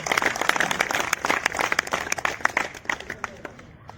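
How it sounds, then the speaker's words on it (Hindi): Applause from an audience welcoming the Indian blind cricket team at a government event, uneven bursts of clapping with sharp individual claps standing out, thinning and fading toward the end, with some crowd noise underneath. "जोरदार तालियों के साथ सबका स्वागत करेंगे"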